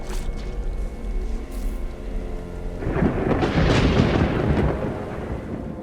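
Thunder rumbles, then cold rain pours in the video game The Eternal Castle, a steady dense downpour with low rolling rumble that swells loudly midway and holds, with no voices.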